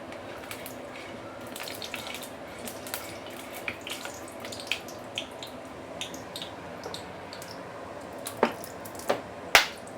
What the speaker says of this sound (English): Ooh, got some water inside, so it's splatter.